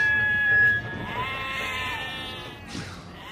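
Sheep bleating, a wavering nasal bleat heard close up over a faint background murmur, with a brief second call near the end.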